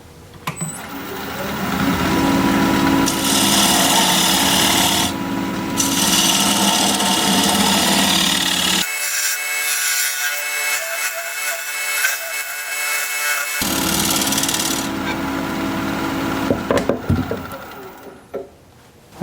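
A tenon being turned on a wood lathe for an oval bowl: loud, continuous cutting and whirring from the spinning wood with a steady motor tone, broken by uneven pulsing from the oval shape, a shift in tone partway through, no talk.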